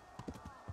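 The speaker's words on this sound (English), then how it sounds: "Come on, let's just gallop." Horse hooves galloping in Kingdom Come: Deliverance, a quick run of about five soft, dull thuds in an uneven rhythm, fairly close and moderately loud over a low game-world background.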